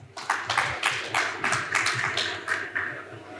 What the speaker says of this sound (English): I request to welcome the panelists with a big round of